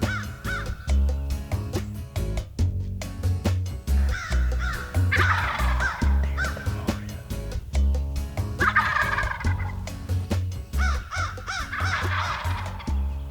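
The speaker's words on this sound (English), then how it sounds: "These jakes had great sounding gobbles" Several young wild turkeys (jakes) gobbling repeatedly outdoors, loud rattling calls overlapping in bursts, with softer clucks and a low rumble beneath.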